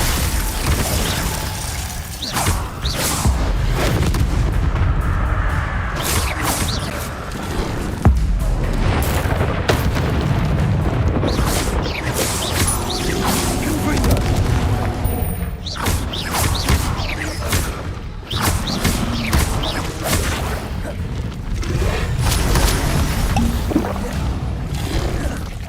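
Repeated Confringo fire-spell blasts in the Hogwarts Legacy game, loud booming impacts with crackling, debris-like bursts layered over a steady dense game soundscape for the whole stretch, with no talk.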